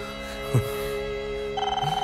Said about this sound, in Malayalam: ഫോൺ അടിക്കുന്നു